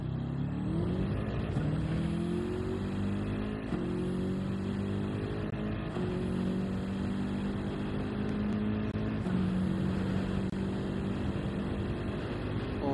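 A race car engine in Gran Turismo 7 at the Red Bull Ring rises in pitch through several gears, with repeated upshifts and steady loud revving and no talk.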